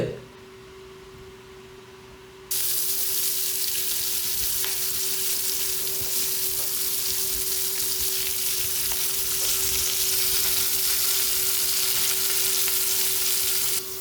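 Dried shark pieces frying in oil in a pan for a home-style Kerala meal, a loud, continuous close sizzle that bursts in abruptly after a quiet start and holds steady with a faint constant hum beneath.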